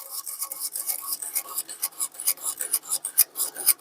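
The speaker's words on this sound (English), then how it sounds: "Just going to take a wire brush and try to get the dirt and debris out of it" Wire brush scrubbing dirt and debris from a vintage brass hammer, heard as quick, rhythmic rasping strokes. Each stroke is a bright, scratchy burst, close up, with no voices.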